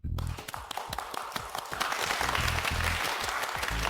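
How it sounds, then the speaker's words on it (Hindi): Audience clapping for a contestant walking onto a stage at a talent show, steady and fairly full, with a low rhythmic beat running beneath it, no talking. "जोरदार तालियां बजती रहनी चाहिए।"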